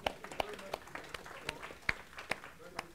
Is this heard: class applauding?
yes